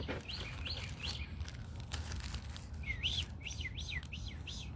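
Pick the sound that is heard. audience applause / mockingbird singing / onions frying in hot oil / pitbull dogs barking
mockingbird singing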